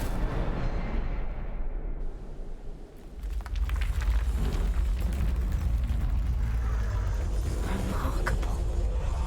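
Incendio fire spell cast in the game Hogwarts Legacy: a sudden deep whooshing burst of flame that swells into a sustained roaring, crackling rumble lasting several seconds, loud and close with no talk.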